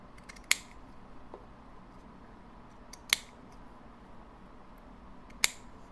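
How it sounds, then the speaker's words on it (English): Pinking shears trim fabric around an appliqué stem on a pumpkin mug rug, giving three crisp, separate snips spaced a couple of seconds apart, close and quiet against a hushed room. "Now we're going to trim around the edge of the stem with the pinking"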